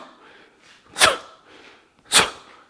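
A voice demonstrates forceful karate breathing, giving two sharp, explosive exhales about a second apart, close and loud, with softer breaths between them.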